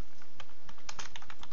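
Quick keystrokes on a computer keyboard sound close up as a short phrase is typed, a brisk run of light, uneven clicks.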